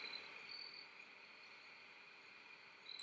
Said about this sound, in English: So now all you hear are the crickets.